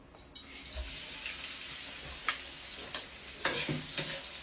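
Hotdogs fry in a pan with a steady, moderate sizzle and crackle, broken by a few louder clinks and stirring scrapes, close and without talk.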